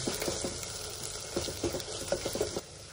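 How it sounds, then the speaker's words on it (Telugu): Turmeric frying in hot oil with ginger paste for a ladies finger and tomato curry: a steady close sizzle broken by several short scrapes and knocks of stirring, with no talking. "ఇప్పుడు పసుపు కూడా మంచిగా ఫ్రై అయిపోయింది"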